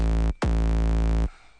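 A deep synth bass note from Native Instruments Massive hits with a quick downward pitch thump like a kick, plays twice with a brief gap, then cuts off sharply.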